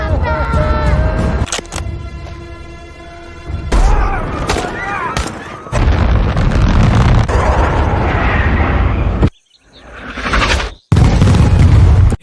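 A missile explosion: heavy booming blasts and crackling bursts, loud and close, mixed with dramatic music, sharp cuts and a voice speaking over parts of it.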